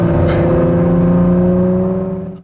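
A 2017 Ford GT driving on the road, its engine droning loudly and steadily with a strong tonal hum close by, then fading away at the end.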